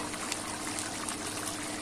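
Minced meat qeema with tomatoes and onions cooking in its own water in a pan, giving a steady close bubbling sizzle with no talk.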